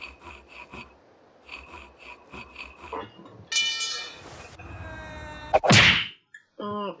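A nail file rasps in The Henry Stickmin Collection game, with two harsh scraping bursts over game sound effects and music, the second loud and brief.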